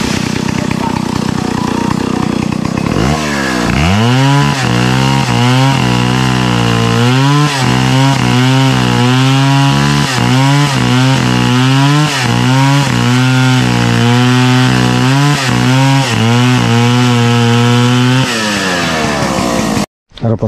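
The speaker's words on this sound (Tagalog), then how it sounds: "Grass cutter." A grass cutter runs outdoors on a farm field, its loud two-stroke engine droning steadily and revving up and down in repeated surges for most of the stretch before cutting off near the end.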